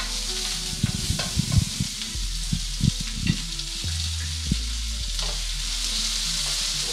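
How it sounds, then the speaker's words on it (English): Asparagus and other vegetables sauté in a hot pan, giving a steady sizzle broken by several knocks and scrapes as the pieces are moved around, near and without talk. "Saute the vegetables just a little bit."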